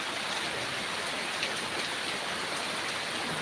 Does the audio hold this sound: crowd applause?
no